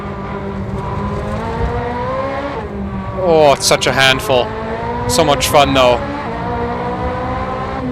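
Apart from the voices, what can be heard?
race car engine downshifting, video game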